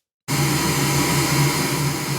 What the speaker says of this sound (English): click the play button on the generator, and it makes the pink noise sound